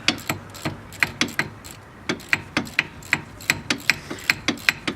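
A ratchet wrench clicks in quick bursts of sharp pawl ticks while loosening wheel bolts during a 5-lug hub and brake conversion on a Nissan S13, the short runs repeating with brief pauses, close and clear, no talking.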